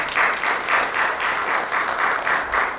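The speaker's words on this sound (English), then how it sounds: "please give him a round of applause" An audience at a domestic violence awareness panel event gives a panelist a round of applause, a full, steady clapping crowd swelling in slight pulses throughout.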